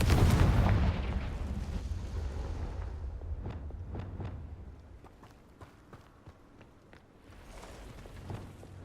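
The Confringo fire spell in the Hogwarts Legacy video game goes off in a loud, rumbling blast that decays into a spread of sharp, crackling impacts before a low rumble swells again.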